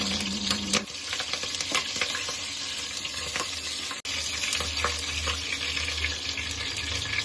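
Bay leaves, cardamom and cinnamon sizzle in hot oil while cooking mutton paya, a steady frying hiss running throughout with a brief clatter near the start and a short break midway.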